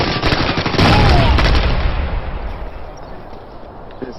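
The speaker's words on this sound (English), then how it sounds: "Throwing a frag!" Frag grenade thrown in a first-person shooter, the blast landing amid dense gunfire, loud and close, roaring for about two seconds before fading into ongoing battle noise.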